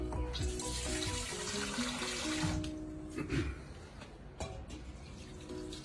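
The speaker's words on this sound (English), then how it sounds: "I'm going to put in some water." Water poured into a pot of Croatian lamb stew, a steady splashing gush that fades to lighter trickles and drips, near and alone without talk.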